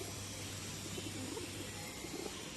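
Faint, low cooing of pigeons against a steady background hiss, soft and somewhat distant.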